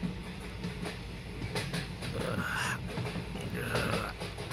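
A Delhi-bound deluxe train rolls along in a continuous low rumble, heard from inside a first-class compartment, faint and steady with soft rattling throughout.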